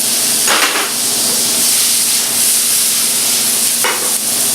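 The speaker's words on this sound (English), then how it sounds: "So we can add some tomatoes here." Tomatoes tipped into okra masala already frying in a pan, giving a steady close sizzle and hiss with a couple of brief louder bursts of crackle as the pieces hit the hot oil.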